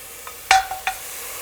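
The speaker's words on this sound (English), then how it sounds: "So you can hear the sizzle when you put the pork in." Marinated pork ribs hit a heated pot with a short burst of sizzling, followed by two brief softer hisses and stirring clinks, then quiet.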